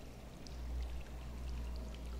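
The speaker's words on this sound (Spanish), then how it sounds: "Otra zona inundada." Faint, steady rush of flowing water in a flooded area of the game Darksiders, a soft continuous wash under a low hum.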